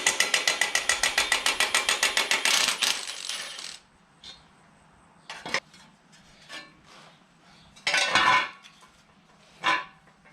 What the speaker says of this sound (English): The cool thing about these Milwaukee ones is you can adjust the torque setting.